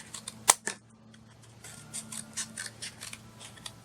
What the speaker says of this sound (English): Just a bit of spare mat board. I'm cutting it up into various